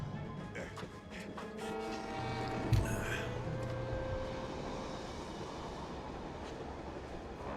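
A train rumbles past in the video game TimeSplitters Future Perfect, a loud, close, sustained roar with droning tones that swells and then settles into a steady wash, with voices faintly underneath.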